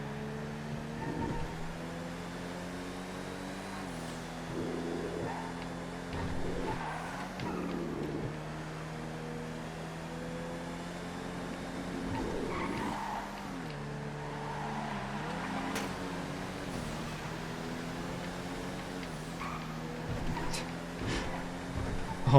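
A Seminole Frontier in a GTA FiveM random car race drives with a steady engine drone that shifts pitch and has intermittent tire skids and squeals. A voice talks over it throughout.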